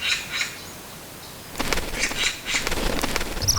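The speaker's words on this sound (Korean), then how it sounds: "소쩍새가 쫓겨납니다" An Oriental scops owl is driven from its chestnut-tree nest hole by a hoopoe, with a flurry of close flapping wingbeats and bird movement following a quieter stretch of faint chirps in the forest.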